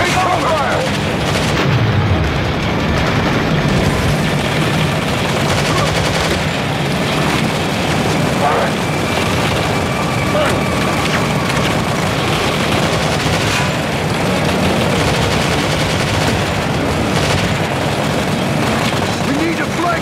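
Dense gunfire and heavy weapons fire in a Modern Combat 3 battle at an extraction zone, with a machine gun turret among continuous loud shooting, booms and chaotic game noise, with voices shouting in the mix.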